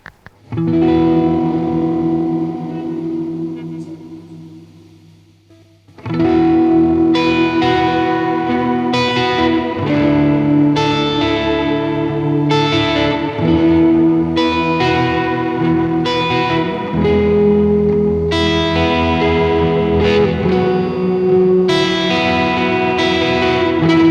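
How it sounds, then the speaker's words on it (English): Distorted electric guitar chords ring through a large hall reverb from a UAD Golden Reverberator plugin set to its C position, with long sustained washy tails; a quieter decaying passage gives way to continuous loud strumming. "Flipping this down to the C position, you get the large hall, which is a much bigger reverb."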